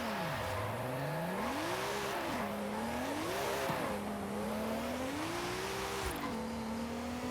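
A Koenigsegg supercar in Forza Horizon 5 revs continuously as it accelerates, its engine pitch sweeping up and dropping back at each gear shift, loud and steady throughout with faint tire noise.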